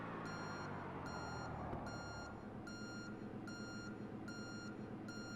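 Pushback tug reversing alarm in a flight simulator, a steady series of regular high beeps repeating roughly every 0.7 seconds over a constant loud engine and ground rumble.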